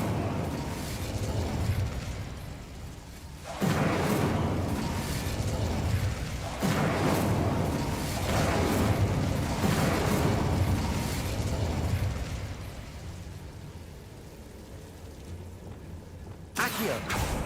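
In Hogwarts Legacy, the Incendio fire spell is cast repeatedly, each one a whooshing fiery burst that swells into a sustained roar and then fades. The blasts are loud and close, and the roar ends in a sharp crack near the end.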